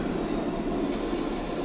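A freight train loaded with frac sand rolls past close by, a steady heavy rumble of wagons with a brief high squeal partway through.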